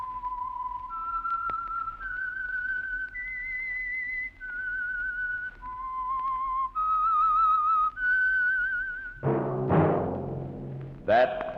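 The Whistler radio theme is whistled solo, a clear melody of sustained, sliding pitched notes stepping through a tune, ending in a brief burst of orchestral music.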